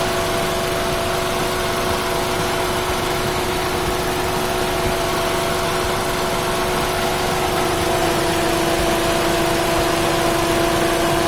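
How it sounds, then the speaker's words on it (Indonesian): A 2014 Datsun GO+ Panca idles with the air conditioning switched on, its engine humming steadily with a strong, even vibration and a constant tonal whine, close and uninterrupted. "ini getarannya ketika AC dinyalakan lumayan keras"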